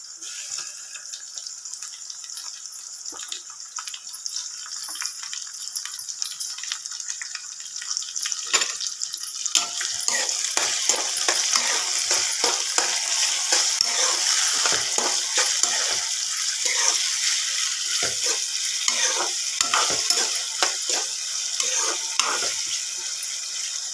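Tomato pieces fry in a pan for a ridge gourd curry, a constant bright sizzle broken by irregular scraping and stirring knocks that grow busier partway through.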